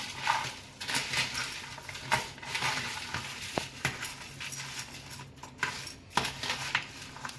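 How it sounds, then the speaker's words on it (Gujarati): A spoon stirs and tosses farali bhel ingredients with potato in a bowl, giving uneven scraping and clinking strokes that rise and fall close by, with no voices. "તો હવે આપણે આ બધી વસ્તુને મિક્સ કરી દઈશું।"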